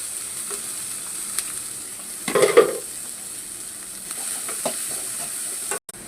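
Capsicum frying in a pan for an egg fry makes a steady close hiss, with a brief louder burst of stirring and sizzling near the middle and a final utensil clatter, no talking.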